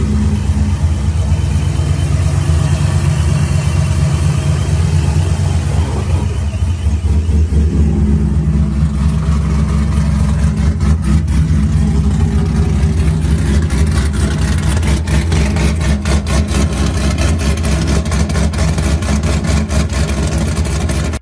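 A loud supercharged Corvette engine idles with a choppy, lopey rumble and audible blower, then revs up, steady and close, with no voices over it.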